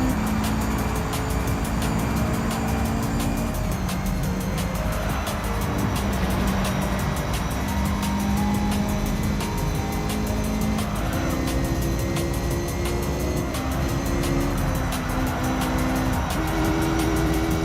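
A race car in Gran Turismo 3 on PS2 holds a steady, loud engine drone with shifting pitch for the whole stretch, with brief tire squeals and skids mixed in, close and continuous.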